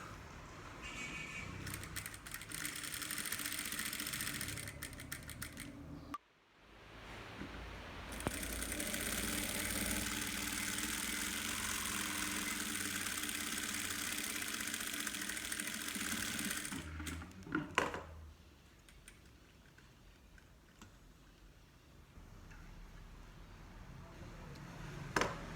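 A sewing machine runs in long steady stitching bursts while sewing a car trash bag with an organizer pocket, briefly pausing near the start and stopping before the end, leaving quieter handling noise.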